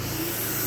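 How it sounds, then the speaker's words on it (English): Water spray rinses iron remover off a motorcycle, a short and steady close hiss that lasts under a second. "After this point, you just rinse it off."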